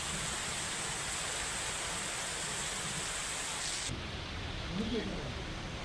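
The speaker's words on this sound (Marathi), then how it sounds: "कोल्हापूर जिल्ह्याला परतीच्या पावसानं झोडपलंय।" Heavy returning-monsoon rain in Kolhapur district, a dense, steady hiss of downpour drumming on surfaces, continuous and fairly close, with a slight shift in tone near the end.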